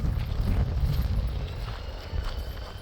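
Police horse hooves clopping on pavement on a very windy morning, a steady dull rumble of steps under gusting wind noise with no talk.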